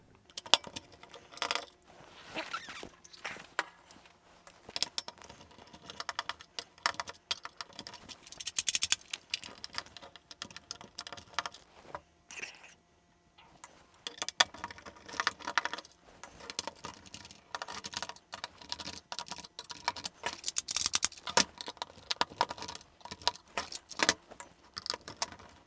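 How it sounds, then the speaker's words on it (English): Small metal tri-wing screws being worked out of a Game Boy shell with a tri-wing screwdriver, a steady run of close clicks, scrapes and rattles with a short pause midway, no talking. "we need to get our tri-wing screwdriver and remove all these screws"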